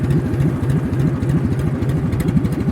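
An old tractor engine runs steadily in high range gear, a close, loud low-pitched rumble with a rapid, even firing pulse throughout.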